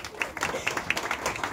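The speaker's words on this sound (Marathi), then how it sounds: "एकदा जोरदार टाळ्या या मंडळासाठी झाल्या पाहिजेत" An audience claps at a Warkari bhajan double-bari event, scattered moderate applause with irregular hand claps over a murmuring crowd.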